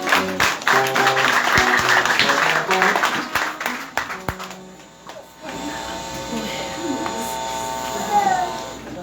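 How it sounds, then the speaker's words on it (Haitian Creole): A church congregation applauds the pastor, dense clapping that fades after a few seconds, followed by a humming background and a voice speaking. "nous applaudissons pour apprécier le pasteur"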